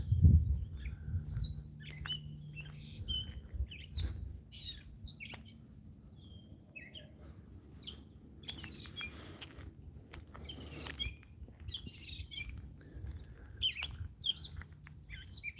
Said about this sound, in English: Can you hear this bird squawking?